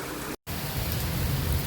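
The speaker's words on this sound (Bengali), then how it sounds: "এখন যেমন প্রচন্ড ঝুম বৃষ্টি" A heavy downpour of rain roars steadily and loudly as a dense, continuous wash with no talk, broken only by a brief moment of silence near the start.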